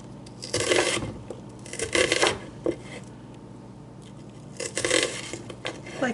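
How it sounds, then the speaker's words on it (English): Kitchen knife slicing onion into fine half-moon slices on a board, several rasping cuts in quick bursts with pauses between, close and fairly clear with no talk. "So we just cut this way and make fine slices."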